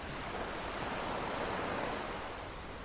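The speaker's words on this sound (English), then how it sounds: "See if you can steady your breath with the tidal movements, the tide coming in" Ocean waves rolling in with the incoming tide, a soft, continuous wash of surf heard at a moderate distance with a slow swell, mixed with some wind noise.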